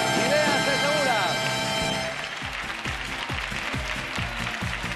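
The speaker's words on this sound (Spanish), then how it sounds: "Ahí está la ovación de todo el pueblo de los equipos correspondientes." Townspeople from Beas de Segura and Peñaranda de Duero give an ovation at a 1996 summer TV game show. Swelling music with sweeping tones fades into broad, sustained crowd applause, with a regular low thumping beat beneath the clapping.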